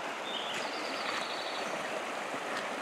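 A low, shallow river flows steadily over its bed, a constant soft rushing wash with no pauses, heard alone at a moderate distance.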